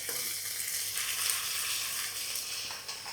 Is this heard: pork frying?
yes